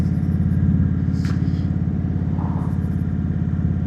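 A motorcycle engine idles steadily close by on a chilly morning, a loud even rumble with a light mechanical clatter and no talking.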